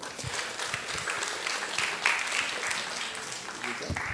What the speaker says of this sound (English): So give a round of applause for Ms. Pepe.